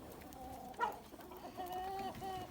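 A rooster gives a few low, throaty clucks and short calls, close by, with a brief louder squawk early on over faint background noise.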